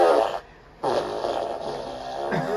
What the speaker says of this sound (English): Did you fart for real?